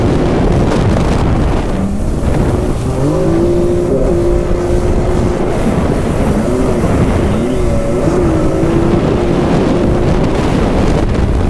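A stand-up jet ski corners around buoys at full throttle, its engine screaming loud and close with pitch rising and falling through each turn over constant wind and water rush.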